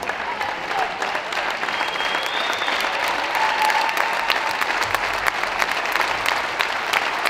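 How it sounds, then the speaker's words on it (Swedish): Steady, warm applause fills a Swedish youth cup prize ceremony as girls' and boys' team captains receive trophies, with sustained clapping from a sizable crowd throughout and no talking. "Vi ger en varm applåd för Västergötlands flickor och Skåne Röds pojkar."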